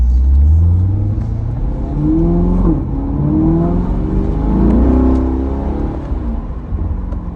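A modified 2021 Chevrolet C8 Corvette engine revs up and shifts through gears, rising and falling in pitch under a constant loud road rumble, heard from inside the cabin.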